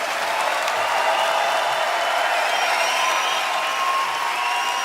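A stand-up comedy audience gives comedian Artus loud, sustained applause, an even wall of many hands clapping with faint cheering inside it, steady throughout with no talk.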